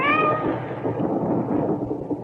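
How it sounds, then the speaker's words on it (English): A hungry cat lets out one brief meow at the start, quickly swallowed by a loud, rumbling, noisy background that continues to the end. "The cat."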